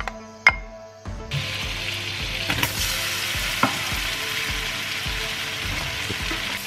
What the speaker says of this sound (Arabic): لا نقلي البصل وإنما نعطيه فقط لون الزبدة